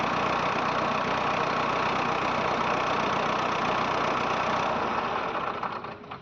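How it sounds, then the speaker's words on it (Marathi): A farm tractor's diesel engine, one that has been overheating and throwing out coolant, runs steadily up close with a loud, continuous rumble before fading slightly at the end. "शेतकरी मित्रांनो बघू शकता ट्रॅक्टर चालू झालेलं आहे"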